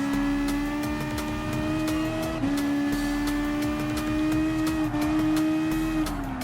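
Race cars in Gran Turismo Sport, including a BMW M6, with a sustained engine drone that rises in pitch through gear changes, shifting several times, alongside clicking game sounds and no talk.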